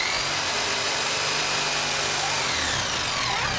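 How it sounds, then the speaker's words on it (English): A Black & Decker JS200 electric jigsaw runs in a steady, loud, continuous buzzing whine through the whole stretch during a live stage magic show, with no talking over it. "this is a Black & Decker JS200 electrically powered jigsaw"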